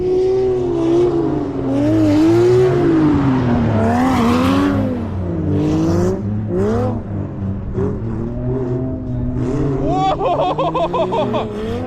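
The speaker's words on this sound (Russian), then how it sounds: "Заезд номер 2. Миха первым номером, Гриха догоняет." Drift cars battle on ice at a winter drift competition, engines wailing and revving in sweeping pitch swings as they slide, loud and continuous with a sharper burst near the end, under a commentator talking in Russian.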